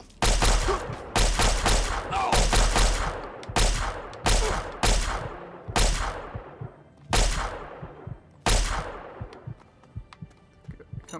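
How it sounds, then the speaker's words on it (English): Bursts of gunfire from enemies shooting at the player in Fallout 3, several loud close volleys of rapid shots with brief gaps between them, fading toward the end. "Oh my god, I'm getting shot again?"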